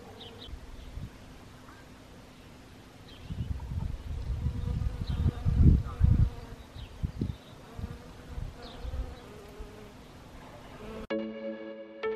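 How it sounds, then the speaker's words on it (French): Bees hum steadily as they work a rosemary plant, a close, continuous buzzing that swells louder for a few seconds midway and then eases. Music begins at the very end. "juste le bourdonnement des abeilles sur mon romarin"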